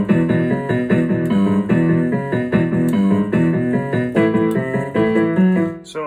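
Fast rock piano pattern of fifths moving to minor and major thirds, played as steady repeated chords in a driving rhythm, close and loud with no talking.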